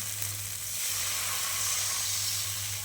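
Water poured into a hot pan of spiced greens with coriander leaves sets off a steady, loud sizzle and hiss that swells slightly and holds without pause, with no talking.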